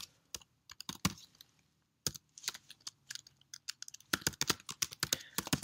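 Keys clatter on a computer keyboard in quick bursts of close, crisp clicks as a name, email address and password are typed in to create a website account, with a brief pause midway before a denser final run.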